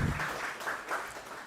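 Light applause from a small audience at a university UI/UX innovation hackathon event, a brief patter of clapping that fades across the short moment, fairly faint and without talk.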